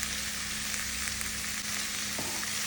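Onions fry in a pan for ulli theeyal while being stirred, a steady loud sizzle with faint scraping of the spoon and a soft knock near the end.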